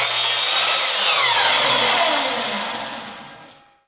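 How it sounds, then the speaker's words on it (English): A Craftsman miter saw cuts a mitered corner on a wooden frame piece, a loud close whine through the wood that then spins down and fades to silence. "now using my Craftsman miter saw"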